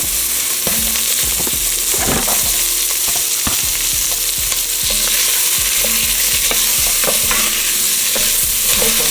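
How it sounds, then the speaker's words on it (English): Onions cooking in a pan with seared beef, a loud, constant close sizzle with frequent scraping and stirring clicks throughout. "Now we're gonna add these onions in and cook these for about 2 to 3 minutes"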